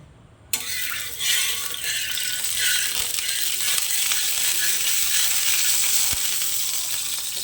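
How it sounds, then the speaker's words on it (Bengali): Ghee sizzling steadily on a hot tawa griddle, with scraping stirring strokes over a continuous bright frying hiss, starting abruptly and running loud and close with no talk. "চাটুটা গরম হয়ে গেছে ঘি দিয়ে ভালো করে নেড়ে নেব"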